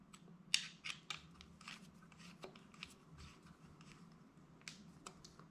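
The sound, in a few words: tightening screws on an airsoft rifle shroud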